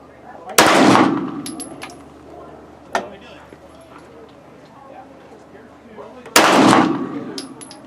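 Walther PPQ pistol clamped in a Ransom Rest, two loud sharp shots fired several seconds apart outdoors, each with a short ringing decay, with faint mechanical clicks in between.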